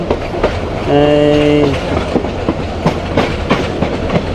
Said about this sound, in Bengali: আমাদের ট্রেন চটকলা এক্সপ্রেস কুমলাপুর রেলওয়ে স্টেশনের ভিতর ঢুকে গেছে